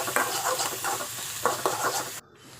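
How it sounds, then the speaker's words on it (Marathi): A spoon stirs fried onion, dabu chili and tomato in a kadai while making Maggi, giving a steady run of scraping, clinking strokes over a soft sizzle, close and fairly loud, ending abruptly. "आता यांना मस्तपैकी चमच्यानं मिक्स करूया."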